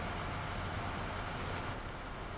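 Steady rain in the Farming Simulator 19 video game, a dense continuous hiss of falling water with no breaks, fairly loud and even across the whole stretch with no one talking.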